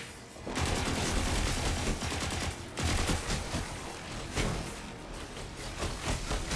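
Loud, continuous gunfire in Destiny 2 plays as dense rapid volleys. The firing breaks off briefly twice and then resumes, with no talking over it.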